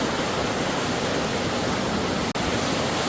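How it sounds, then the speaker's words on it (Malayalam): A small waterfall in an Irish village, water dropping from a height in a constant, dense rushing roar, close and loud throughout with no voices. "ചെറിയൊരു വെള്ളച്ചാട്ടം പോലെ എന്ന് പറയാം. കാരണം വെള്ളം ഒഴുകുന്നു എന്നുള്ളതല്ല, ഒരു ഹൈറ്റിൽ നിന്ന് വെള്ളം താഴേക്ക് ഇങ്ങനെ പതിക്കുകയാണ്."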